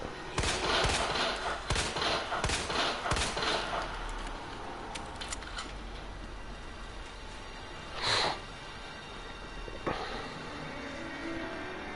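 Gunshots ring out in Resident Evil 2 Remake, a rapid burst of sharp, loud reports in the first few seconds, then sparse single shots and dull thuds over a quiet game backdrop.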